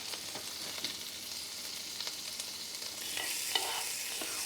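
Shrimp frying in olive oil or butter in a pan, a steady soft sizzle with light stirring clicks, swelling slightly louder near the end, with no talk.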